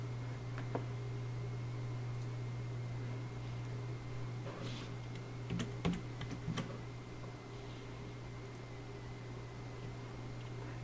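Quiet computer-keyboard typing as an album name is entered, a scattering of soft key clicks clustered in the middle of the stretch, over a steady electrical hum and low fan-like background noise.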